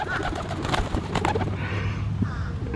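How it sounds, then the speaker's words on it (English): A pigeon coos softly and repeatedly close by, its low murmuring rolling beneath rustling handling noise and a steady outdoor background. "Look at this 5-pound pigeon."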